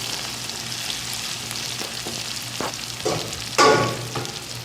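Onion and green chili hitting hot oil in a wok, a close, steady crackle that swells into a loud burst of sizzling near the end as the pieces drop in.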